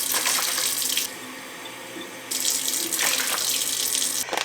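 Water pours into a mixing bowl in two loud, splashing streams separated by a short quieter pause, close by and with no voices.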